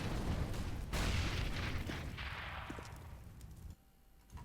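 Incendiary and flashbang grenades going off in a CS:GO match: a heavy burst of noise with a bright crack about a second in, a long roaring fade, then near quiet with a small late pop.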